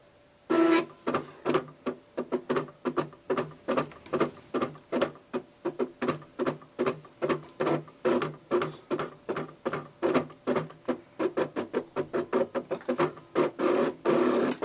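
A Cricut cutting machine slices paper shapes on a mat, giving a steady run of rapid, rhythmic mechanical clicks and whirring pulses, close and fairly loud, with no talking.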